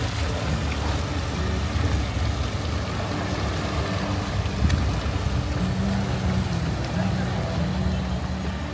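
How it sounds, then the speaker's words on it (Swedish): A boat engine idles in a small-boat harbour at Askersund, giving a steady, fairly loud low rumble for the whole stretch with faint voices in the background. "vad är det för en båt som, undrar hur långt man kan åka med den?"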